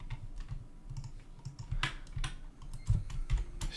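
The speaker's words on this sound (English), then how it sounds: "I'll just use a keyboard to move it." Computer keyboard keys are pressed while moving a model in Revit, a quick run of close, crisp clicks with a few heavier taps, irregular in rhythm and heard alone without speech.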